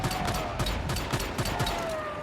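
Pistol fire in the survival shooter Once Human, a quick rhythmic string of about eight sharp shots in under two and a half seconds over a low background hum.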